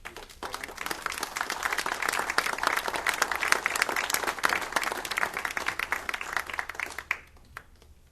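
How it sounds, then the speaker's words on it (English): Audience applause at a marijuana panel in McMinnville, a room of people clapping steadily and fairly loudly, swelling then thinning out into a few scattered claps near the end. "Nice round of applause."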